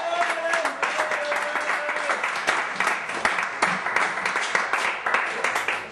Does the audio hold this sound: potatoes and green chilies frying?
no